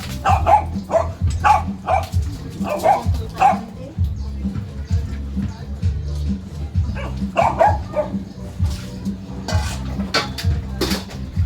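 A large dog barks in short repeated bursts, close by, during bath time, with a steady low hum underneath and occasional clatter.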